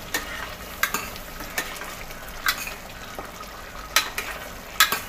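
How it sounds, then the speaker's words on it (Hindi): Mutton frying with red chili powder and spices sizzles softly in a pan under a steady hiss, punctuated by about eight sharp scraping stirs of a spoon at irregular intervals. "और इसकी अब भुनाई करेंगे हम अच्छे से"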